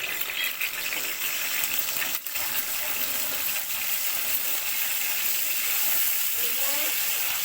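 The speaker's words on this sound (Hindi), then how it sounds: "तो थोड़ी सी मिर्चें डाल दी।" Chillies and garlic sizzle in hot oil while cooking nihari, a steady broadband hiss and crackle that stays close and fairly even throughout, with no talking over it.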